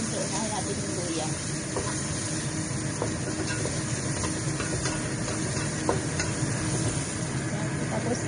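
Onions sizzle loudly in a noisy pan while cooking sweet and sour tilapia, a steady broadband hiss filling the whole stretch with small crackles, no talk heard.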